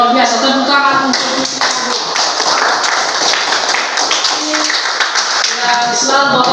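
Students in a vocational classroom clap together in a dense, loud burst, with voices heard at the start and end.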